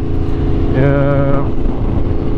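An Aprilia RSV4 sport motorcycle's engine roars loudly and close while riding, with a brief rising rev in the middle before it settles back to a steady drone.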